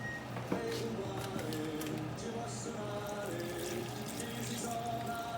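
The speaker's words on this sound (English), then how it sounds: "add some water to this and cover it back and let it cook" Spring water poured into a pot of stewing pork, a steady close splashing pour with a kitchen hum underneath, running continuously without talk.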